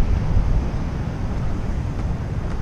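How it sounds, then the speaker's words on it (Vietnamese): Strong wind buffets the microphone at the seaside in Long Hải, a loud, steady low rumble with constant gusty roar and no clear speech throughout. "Gió quá cậu ơi."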